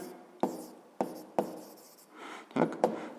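A physics answer written by hand on paper or a board, with about six sharp tapping strokes and short scratchy marks at an uneven pace, close and clear with no voice over them.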